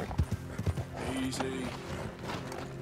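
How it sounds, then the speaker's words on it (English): Video-game horse hooves clip-clop in a quick burst of sharp nearby strikes, then fade under a softer background mix. "That guy had a super nice horse"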